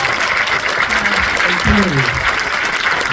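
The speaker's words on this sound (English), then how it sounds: "How about some applause again?" Audience applause fills a film Q&A screening at a cinema, a steady broad wash of clapping throughout, with a voice speaking briefly over it near the middle.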